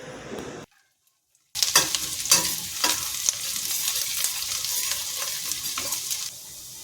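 Ginger, garlic and kasuri methi hit hot oil and ghee with a sharp, crackling sizzle after a brief silent gap, with spoon scrapes and stirring clatter over the steady frying hiss.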